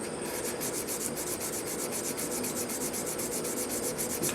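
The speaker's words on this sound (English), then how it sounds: "to get the pressure on the sandpaper where I want it. And just work from each side until we get that nice crown on there." Sandpaper rubbed back and forth along the frets of a Stratocaster-style electric guitar, crowning them; a steady, close, rhythmic scraping with quick regular strokes throughout, no talk.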